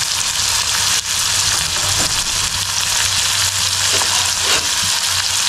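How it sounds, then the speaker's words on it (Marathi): Clam curry with onion, tomato, garlic and chilli sizzling loudly in a pan while being mixed, a constant close frying hiss broken by a few scraping stirs, no voices. "आता याला आपण मिक्स करून घेऊ आणि शिजवून घेऊ"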